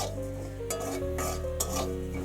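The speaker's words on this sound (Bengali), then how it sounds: "এর ভিতরে এবার দিয়ে দেব কসুরি মেথি, দিয়ে এটা কিছুক্ষণ নাড়তে থাকবো।" Kasuri methi and fennel seeds stirred in a frying pan for a paneer dish, with a steady scraping stir, a faint sizzle and occasional utensil knocks against the pan, all over a sustained tonal hum.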